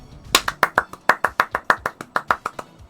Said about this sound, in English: The golf clap.